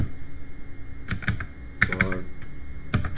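Computer keyboard keys clatter in short irregular bursts of clicks as a network switch command is typed, close and clear over a low steady background hum.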